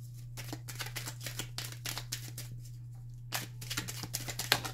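Tarot cards are shuffled by hand in quick bursts of soft riffling and slapping, close and alone over a constant low hum, with a brief pause before a final flurry.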